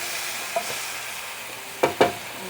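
Chicken and rice cook in a pan with a quiet, steady sizzle, a light tap early on and two sharper scrapes of a wooden spoon near the end, close by.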